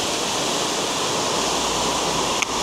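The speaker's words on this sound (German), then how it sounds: "Dann war ich noch hier drüben direkt unter dem Wasserfall." Trusetal waterfall heard from directly below, a loud, steady broadband roar of falling water filling the whole clip without pause, with one brief faint click near the end.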